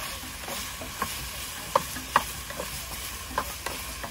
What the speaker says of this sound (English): potatoes and sweet potatoes and carrots. Stir fried.